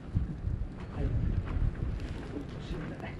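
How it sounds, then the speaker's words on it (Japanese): Wind gusting outdoors on a fishing raft at Ugata beach in Mie during winter black bream fishing, a steady low roar buffeting the microphone and rising and falling throughout, with faint voices underneath. "風がゴーって 来た。"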